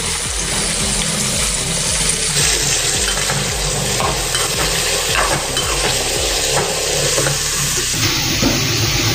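Cut potatoes sizzling in hot oil in a pan for aloo sabji, a steady dense frying hiss with occasional stirring scrapes throughout, close and fairly loud, with no talking.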